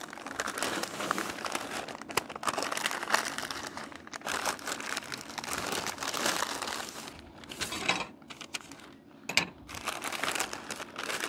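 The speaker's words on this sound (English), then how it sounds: "we're gonna go ahead and wrap it in some butcher paper" Stiff butcher paper crinkles and crumples steadily around a smoked pork butt on a Recteq Bullseye grill, close and fairly loud, with continuous rustling and brief pauses.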